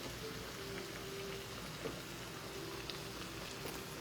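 Bacon and onions frying in a hot pan give off a faint, steady sizzle with a few small pops, quiet and with no talk.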